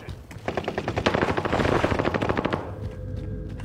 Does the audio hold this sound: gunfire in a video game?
yes